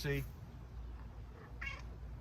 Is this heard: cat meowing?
yes